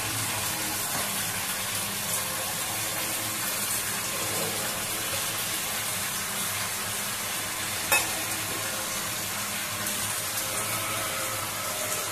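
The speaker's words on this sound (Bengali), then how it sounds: "মশলাটা ভালো করে কষাতে হবে।" Spice masala of chilli, Kashmiri chilli, turmeric, cumin and coriander powders frying in a pan for potol dorma, a continuous close sizzle with scraping stirs and one sharp clink near the end, no voices.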